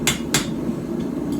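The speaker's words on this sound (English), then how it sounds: "So what I'm probably going to do is hammer in the fuller" Two sharp, ringing hammer blows strike hot steel while forging the fuller into a blade, spaced close together near the start, followed by fainter lighter taps against a steady low workshop hum.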